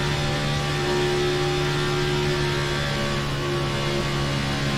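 A race car engine drones steadily at maximum RPM with a constant loud whine during a superspeedway race in a racing video game.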